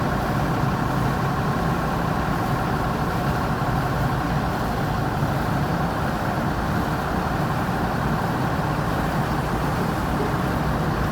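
Executive coach bus with an older engine idling steadily, a continuous broadband rumble at even loudness throughout, close by and without any talk.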